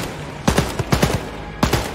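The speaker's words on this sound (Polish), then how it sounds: "Ale gościu wali do nas ciężkiej broni." Heavy weapon fire from an enemy in the video game Wolfenstein: Youngblood comes in short, punchy bursts of rapid shots, several clusters with brief gaps between them, loud and close.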